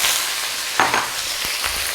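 Sliced potatoes hit hot oil in a wok, producing a continuous close sizzle with a sharper burst of crackling as they go in, followed by a few light clanks of utensils.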